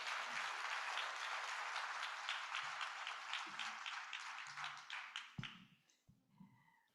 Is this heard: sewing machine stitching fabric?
no